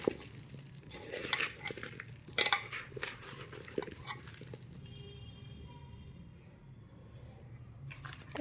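A utensil mixes mango pickle masala with intermittent clinks and scraping against the container, busier at first and then fading into quieter, sparse sounds.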